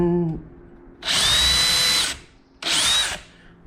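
A power drill bores into wooden rafters in two close, loud bursts, one of about a second and a shorter one after a pause, with a brief voice just before the first.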